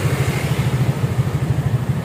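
A Honda Vario scooter with a modified, hollowed-out exhaust idles steadily at close range, a moderately quiet, even low putter with a regular pulsing rhythm.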